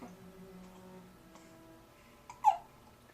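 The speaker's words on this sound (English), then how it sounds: "Oh, but poor guy's got hiccups." A two-week-old baby boy lying on his tummy hiccups, with a soft, brief burst near the end of a quiet stretch of faint breathing and small noises.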